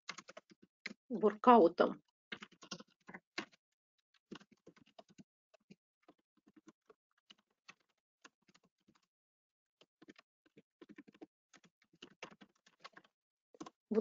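Touch typing on a computer keyboard: sparse, irregular key clicks scattered across the whole stretch, with a short burst of nearby speech early on and quiet gaps between keystrokes.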